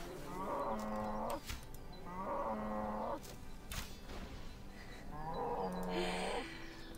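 Cows in RuneScape give three loud, drawn-out moos, evenly spaced, separated by clicks and brief thumps of game effects.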